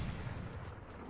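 Gunfire in a mobile shooter game during a competitive tournament match, a dense, continuous rumble of low booming shots filling the whole moment at close range, with no voices over it.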